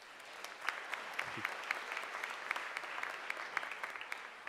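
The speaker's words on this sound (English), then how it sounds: "Let's give Joe a round of applause" Audience applause at a spring graduate and online undergraduate commencement ceremony, steady dense clapping from a large crowd throughout, moderately distant and even in level.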